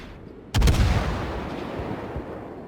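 A naval gun salvo fires in World of Warships as a single heavy boom with a sharp crack. A rolling low rumble follows and decays over the next two seconds.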